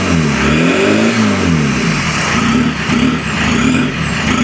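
A Citroën C5 turbo engine revs loudly and steadily at close range, its mid-pitched drone rising and falling slightly for several seconds with no voices over it.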